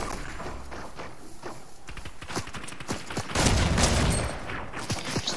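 Rapid gunfire bursts and footsteps in the battle game Fortnite, a dense continuous stream of shots and movement sounds throughout, fairly loud and busy with no clear pauses.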